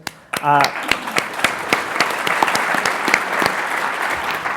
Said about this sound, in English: big round of applause for Jason